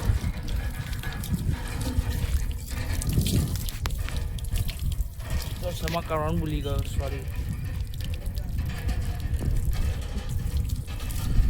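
Water gushes and splashes from an old-fashioned hand pump in a steady, close pour with dripping, while someone talks over it.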